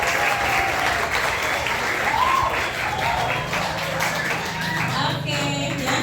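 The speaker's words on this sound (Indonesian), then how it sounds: "boleh tepuk tangan deh buat temennya" A church audience claps together in steady, full applause that carries on throughout, with a few faint voices mixed in beneath the clapping.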